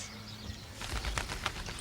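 A strange bird takes off over a canal towpath, its wings giving a short run of soft, quick flapping beats at close range, fairly quiet against faint background hiss.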